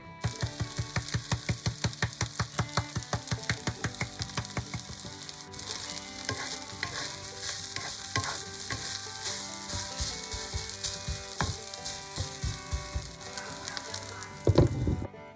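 Rice stir-fries in a hot pan with ground ginger, white pepper and cumin for lamb fried rice, a steady close sizzle over rapid rhythmic scraping and tossing of a spatula, then looser stirring clatter with a louder knock near the end.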